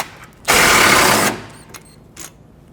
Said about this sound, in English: take those two 10mm bolts off.